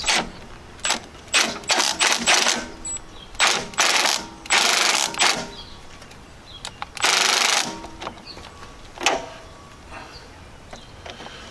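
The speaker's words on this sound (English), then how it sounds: "use the impact on the lowest setting, which usually will bring me around 25 foot-pounds" An impact wrench on its lowest setting tightens the A/C clutch bolt on a 2000 Jeep XJ through an extension, step-down and universal joint, firing in repeated short rattling bursts separated by pauses, loud and close.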